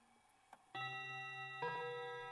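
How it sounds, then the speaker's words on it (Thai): An antique German bedside clock sounds two sustained, ringing chime strokes in quick succession, clear and close in a quiet room, each tone lingering and overlapping the next. "ที่เป็นนาฬิกาโบราณ"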